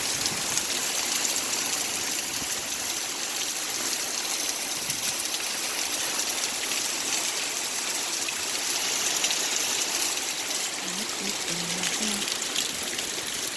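Rainwater from clogged gutters pours over outdoor steps in a steady, loud rushing stream, a continuous broadband wash of flowing water close by with no talking.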